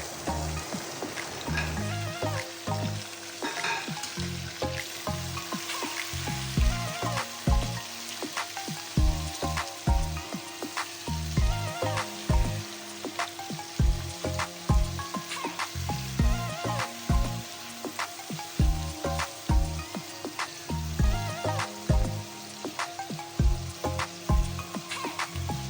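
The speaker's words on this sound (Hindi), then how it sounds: "इसमें हम शामिल कर लेंगे अपना चिकन और इसको भी प्याज़ों के साथ हम फ्राई कर लेंगे।" Chicken pieces frying with lightly browned onions in a pan for a baigan chicken dish, a steady dense sizzle with occasional stirring clatter, close and continuous without speech.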